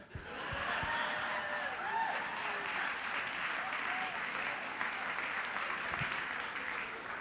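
Sustained applause from an audience aboard the Carnival Miracle cruise ship, a dense, steady wash of clapping holding at even loudness throughout, with faint scattered voices beneath.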